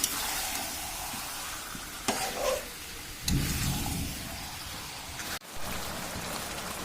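Goat meat sautéing with chili powder in a pan, a steady close sizzle with occasional scraping stirs and a sharp clatter near the end, no voices.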